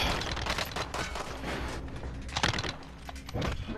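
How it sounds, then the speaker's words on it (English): Gunfire from an enemy team in the shooter game Stimulus Solos, with sustained bursts of shots and cracks running through the whole stretch, fairly loud and busy, with several sharper volleys standing out. "Oh shit, someone's shooting."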